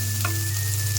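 Garlic fries in a pan for sour brinjal, a steady close sizzle with one brief stir scrape, over a constant low hum.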